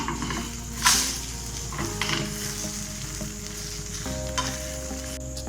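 Egg chapati roll, a flatbread with egg, fries on a pan after being flipped, giving a steady close sizzle with a sharp stirring or scraping knock near the start and a soft low hum underneath.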